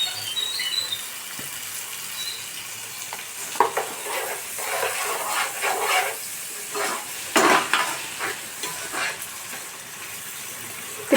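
Tomato masala with ginger garlic paste and salt frying in a pan for kushka, with steady sizzling and bursts of spatula stirring scrapes. The sounds are close and moderately loud, and nobody speaks.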